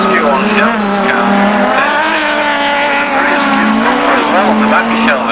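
VW Cup race cars roaring past at Cadwell Park circuit in 2001, loud sustained engine whine with rising and falling pitch and some tyre squeal, under an excited commentator's voice.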